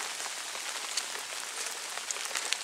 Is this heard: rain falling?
yes